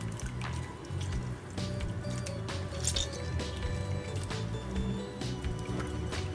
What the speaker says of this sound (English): So I'm just going to squeeze a lemon.